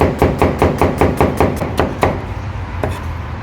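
Knife chopping kebab meat on a wooden counter at a kebab shop, a rapid run of sharp, loud, close tak-tak knocks in a steady rhythm that slows and thins out toward the end.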